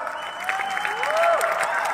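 Crowd applause at a kabaddi-style team sports competition in Dapoli, Konkan, a steady burst of clapping with a sustained tone and possible voices underneath.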